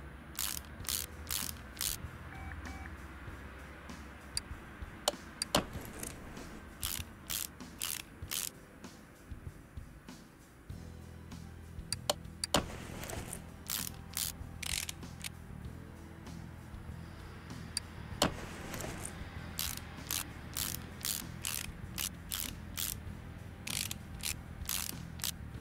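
Ratchet wrench working on a car in Car Mechanic Simulator 2018, rapid clicking bursts repeated many times with short pauses between runs, crisp and close over a low background hum.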